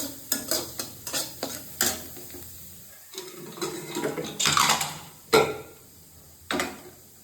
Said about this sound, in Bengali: মুগ ডালটা ভাজা হয়ে এসছে তেল বেরিয়ে গেছে